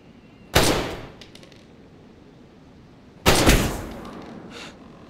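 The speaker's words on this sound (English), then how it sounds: "Sound like a gun." Two sharp, loud gunshot-like blasts in the video game DayZ, the first near the start and the second about three seconds later, each with a decaying tail, with no talk.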